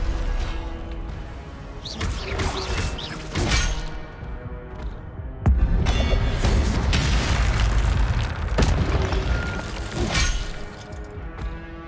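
Incendio fire spells burst repeatedly in Hogwarts Legacy, a run of loud crackling blasts and shattering booms in quick succession over a busy game soundscape, with no speech.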